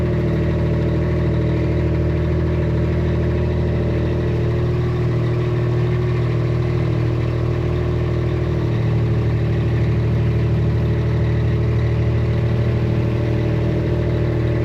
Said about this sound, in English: All right, so I led her around with the side-by-side.